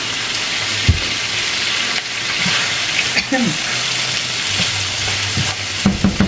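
Potatoes stir-fry in a pan for chicken afritada, giving a loud, continuous sizzle with intermittent scrapes and clinks of stirring, and a brief voice near the end.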